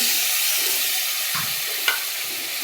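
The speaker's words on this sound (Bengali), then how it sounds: "দিয়ে এবারে কষিয়ে নেব ভালো করে।" Chicken being sautéed with ground coriander and cumin in a pan: a steady close hiss of frying with a couple of soft stirring scrapes, no talking.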